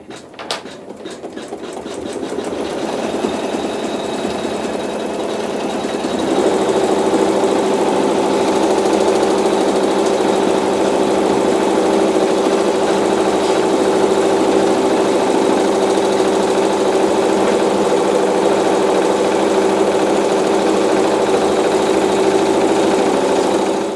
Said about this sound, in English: we'll do a few stitches and stop the machine